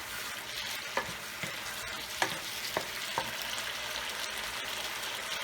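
Tomato and chicken fry in a pan under a steady sizzle, with several distinct scrapes and clacks as the mixture is stirred at irregular intervals; no talking.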